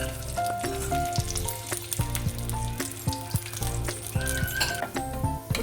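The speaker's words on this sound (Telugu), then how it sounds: "ఇప్పుడు కిస్మిస్ కూడా ఫ్రై అయిందండి." Raisins fry in hot ghee in a pan, a steady close crackling sizzle with scattered pops and clinks of stirring running throughout, with no voices.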